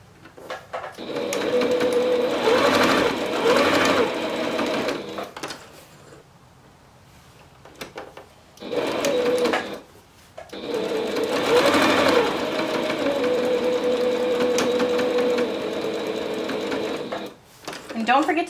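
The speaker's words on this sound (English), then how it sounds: "So definitely remember when you first start to stitch, you backstitch" A sewing machine stitches a pocket on boy shorts in two long, fast, steady bursts of close mechanical whirring and clatter. A short quiet gap separates them, and someone talks between and over the runs.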